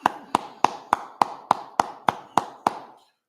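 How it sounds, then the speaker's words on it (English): Ten crisp, evenly spaced claps ring out at a steady beat, close and loud, then stop abruptly. "Clap it up, clap it up."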